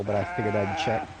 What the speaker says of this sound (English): That was the sound of a sheep